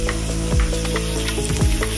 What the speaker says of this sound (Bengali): খানিকক্ষণ ভেজে নেব।